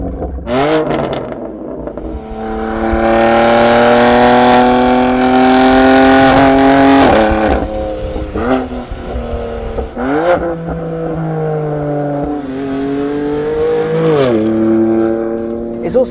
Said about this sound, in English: its titanium exhaust is noisy as hell